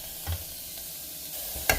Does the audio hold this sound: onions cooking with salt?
yes